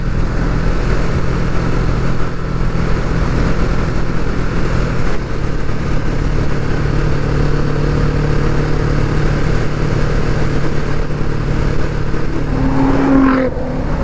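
A Kawasaki Vulcan S motorcycle is ridden on the road, its engine droning loud and steady with a rumbling low tone as it pulls and accelerates, wind noise mixed in.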